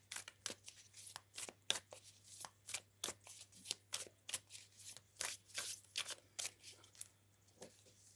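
Cards are shuffled in quick repeated riffles, crisp rhythmic bursts close up over a faint steady hum.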